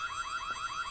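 An alarm in the Korean horror video game White Day sounds as a steady, electronic wail that sweeps up and down in pitch about five times per second, loud and continuous with no talk over it.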